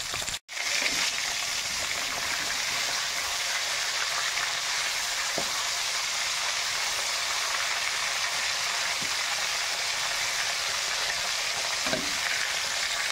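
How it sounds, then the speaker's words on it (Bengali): Fish heads frying in a pan of oil for a Bengali fish curry, a steady dense sizzle that runs unbroken from start to finish, close and fairly loud, with a few faint clinks and no talking. "বন্ধুরা, এরকম করে একটুখানি ভেজে নিতে হবে, লাল লাল করে"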